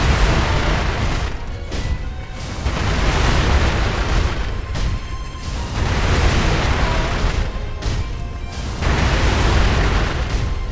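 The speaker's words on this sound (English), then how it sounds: "Firecracker time." Firecracker explosions in the video game Sekiro: Shadows Die Twice sound as loud, dense crackling bursts that fill the whole stretch, pulsing in several waves with brief dips between them.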